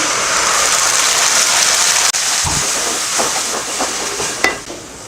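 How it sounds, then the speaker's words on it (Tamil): Tomato paste poured over sautéed onions in a pan sets off a loud, continuous sizzling hiss, punctuated by two sharp clicks or knocks. "இப்போ 3 தக்காளி எடுத்து பேஸ்ட் பண்ணியிருக்கோம் இல்லையா, அதை இதில் ஊற்றிடலாம்"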